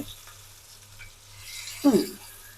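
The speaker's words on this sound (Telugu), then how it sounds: "ఇక్కడైతే ఫిష్ ఫ్రై అయితే వేసేసుకుంటున్నానండి" Fish frying in a pan, a quiet background sizzle that swells into a brief louder crackling burst near the end, with faint kitchen clinks before it and no talking.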